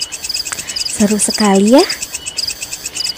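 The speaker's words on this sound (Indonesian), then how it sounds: "juga bunyi serangga seperti jangkrik" Crickets chirp in steady rapid pulses throughout, close and clear, while a person speaks briefly over them.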